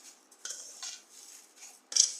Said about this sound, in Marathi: साखर टाकून व्यवस्थित हलवून घेऊया.